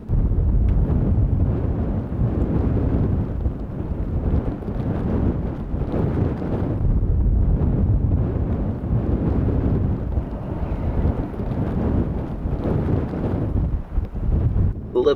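Blizzard wind roars loud and continuous in heavy gusts near a snowy fjord, buffeting the microphone with deep rumbling swells that rise and fall over fifteen seconds.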